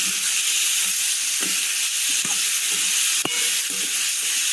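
Tomatoes and capsicum for paneer bhurji sizzle steadily in a pan, a loud continuous hiss broken by a few sharp clicks of a spoon stirring against the pan.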